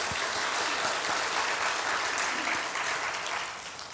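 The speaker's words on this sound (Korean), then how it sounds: "박수하겠습니다." A church congregation applauding during an Easter service, dense continuous clapping from many hands, evenly loud throughout and easing off slightly toward the end, with no speech over it.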